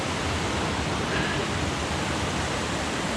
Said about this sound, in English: Just multiple streams and waterfalls everywhere here.